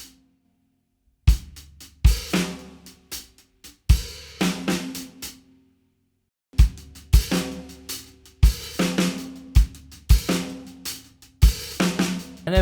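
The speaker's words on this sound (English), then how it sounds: "So those two open hi-hats and the accent added in will sound something like this." Drum kit beat with two open hi-hats and an added accent: punchy kick and snare hits with ringing, sizzling cymbal washes in a steady repeating groove, close and loud, starting after a short silence.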